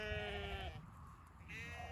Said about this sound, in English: There's our 90 odd homebred replacement ewe lambs all in the same place.